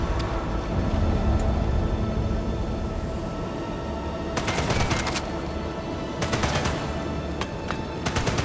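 Gunfire rattles in the shooter game Sniper Elite 5, with bursts of sharp shots around the middle and end over a constant droning background rumble, no talking.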